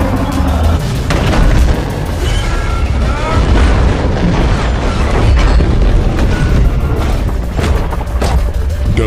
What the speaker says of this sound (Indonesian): Lou kemudian menabrakkan truknya ke tangki minyak dan menyebabkan 3 truk milik Owen terbalik lalu meledak.